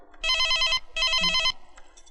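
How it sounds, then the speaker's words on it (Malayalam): A telephone rings in a film scene, two loud electronic ring bursts in a row, close and clear, with a faint word or two between them. "Teacher the phone."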